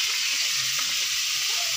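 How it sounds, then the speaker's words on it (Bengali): Pangas fish fry in a pan, a dense, even sizzle of hot oil filling the brief moment, loud and close with faint muffled sounds beneath. "আর এদিকে মাছগুলো ভেজে নিচ্ছি"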